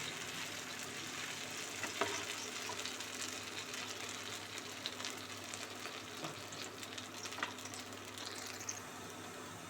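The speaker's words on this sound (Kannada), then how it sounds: "ಬಿಸಿ ಆಗಿದ್ದು ಹಿಟ್ಟು ಹಾಕೋಣ" Barnyard millet dosa batter sizzling on a hot pan, a steady, quiet hiss of frying that stays even throughout, with faint occasional ticks and no voices.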